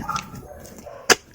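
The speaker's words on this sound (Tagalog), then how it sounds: "Pasensya na sa tahol ng aso." A single short, sharp dog bark cuts in near the end, slightly distant, after quiet background murmur.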